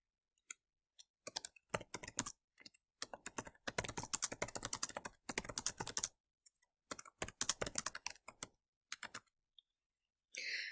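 Computer keyboard keys clatter in quick bursts of typing, broken by short pauses, close and fairly quiet, with no voices.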